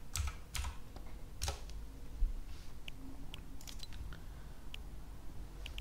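A PIN being typed on a computer keyboard: a few sharp, close key clicks in short bursts, then scattered lighter taps across a quiet room.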